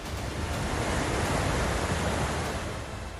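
A tributary of the Bhagirathi, swollen with monsoon rain in the Himalayan hills, rushes past in a steady, loud, broadband roar of fast water that continues unbroken throughout with no voices.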